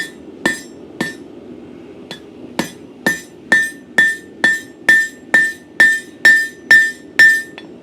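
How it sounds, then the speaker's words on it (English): Rounding hammer ringing against metal on the horn of an anvil while forging a bottle opener: about a dozen sharp, bright strikes in a steady rhythm, close and loud, each with a clear metallic ring. "I'm going to use a rounding hammer and the horn of the anvil."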